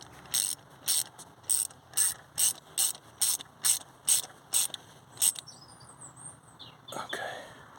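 A ratchet clicks in about a dozen steady, evenly spaced bursts as a thread-repair tool is screwed into a damaged diesel glow plug hole, close and clear, then stops.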